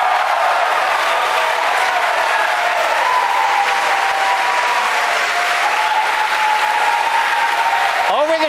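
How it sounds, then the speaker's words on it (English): Crowd at a SpaceX facility cheers and applauds steadily through a nighttime Falcon Heavy-type launch with booster separation, a dense continuous roar with a commentator's voice running over it. "Over the cheering in the background"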